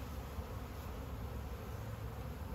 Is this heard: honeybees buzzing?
yes